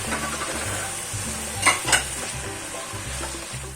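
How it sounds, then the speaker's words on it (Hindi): Onions, potatoes and green chillies sizzle in a pan while a spoon stirs them, giving rhythmic scraping strokes over a constant fry and a couple of sharper clinks midway. "फिर हम उसमें ऐड करेंगे आलू, साथ ही साथ हम उसमें हरी मिर्ची भी डाल देंगे और अच्छी तरह से चलाएंगे"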